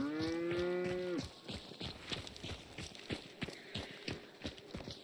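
A cow in the Western horror shooter Hunt: Showdown 1896 lets out a loud, drawn-out moo lasting about a second, then footsteps and faint clatter follow in a steady rhythm through the rest of the moment.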